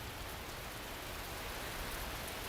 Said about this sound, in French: Par moments, le bruit est plus fort, la pluie s'intensifie